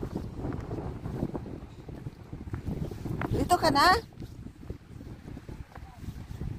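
Strong wind buffets the microphone on a fishing outing at Hänö Klåva, Sweden, a constant low rumbling roar with gusts and a brief loud burst partway through, while people talk over it.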